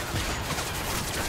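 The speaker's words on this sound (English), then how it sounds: "Too much gunfire! All I see are bullets flying." Rapid gunfire crackles in a Modern Warfare 3 video game match, a dense burst of overlapping shots filling the whole moment.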